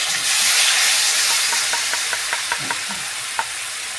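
Tomato paste goes into mustard paste frying in a pan for a Bengali mustard fish dish, giving a steady loud sizzle and hiss with a run of soft stirring scrapes near the end.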